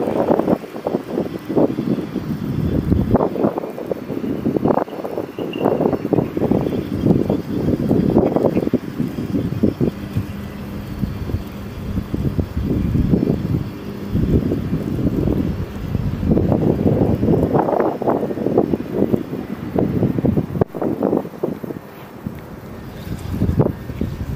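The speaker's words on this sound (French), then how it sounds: "Trop de vent." Strong, gusty storm wind during Storm Ciaran buffets the microphone while lure fishing in Charleroi, a continuous low roar that rises and falls, loud and close, with no voices.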